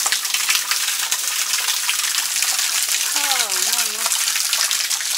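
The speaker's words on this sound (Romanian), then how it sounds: "Aveam impresia că plouă afară, de fapt se auzea apa." Water gushes and pours steadily at high volume, a constant rushing flow, with a brief voice heard over it near the end.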